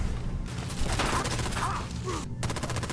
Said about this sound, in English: Put my missile launcher to use.